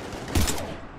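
Gunfire in Mass Effect 3 combat: a single sharp burst of shots, brief and fairly close, with a short tail.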